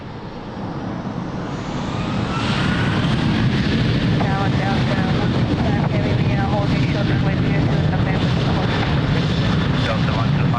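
A fixed-wing airliner takes off from runway 02 at Lisbon Airport, its jet engines building to a loud, sustained roar with a rising whine, steady and close throughout.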